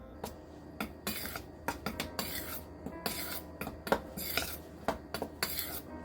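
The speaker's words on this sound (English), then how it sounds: "we've added our baking soda, and we're going to give that a stir." A utensil stirs baking soda into cookie dry ingredients in a bowl, making quick, close, rhythmic metallic clinks and scrapes that repeat steadily throughout, with no talking.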